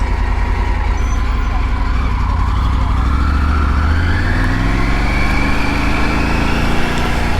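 A Bud Light truck passes on a road near a freeway entrance, its engine and tyre roar loud and continuous throughout.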